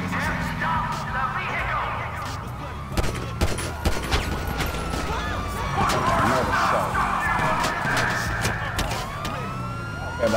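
Police gunfire in the video game GTA Online, rapid shots crackling over wailing sirens and a busy game soundscape, with a voice talking in places.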